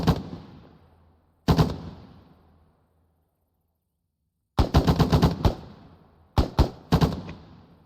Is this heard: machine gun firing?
yes